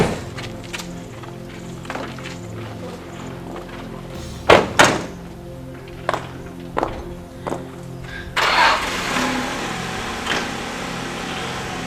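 Car doors thudding shut, a series of sharp slams and thunks with footsteps around them, followed by a rough burst of engine noise starting up, with no talking.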